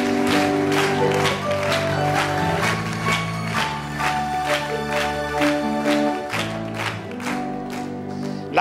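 A church congregation applauds steadily throughout, with rhythmic clapping and a few cheers over music with sustained tones.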